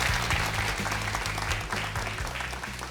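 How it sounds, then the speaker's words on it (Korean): Audience applause fills a televised Korean social-enterprise crowdfunding pitch event as a presenter finishes, a steady dense wash of clapping from a studio crowd with a low hum of music beneath. "박수 부탁드리겠습니다"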